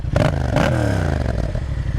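Parallel twin engine of a 2019 Yamaha MT-07 with a baffle fitted in the exhaust, heard close and loud in two quick throttle blips that fall back to a rumbling idle.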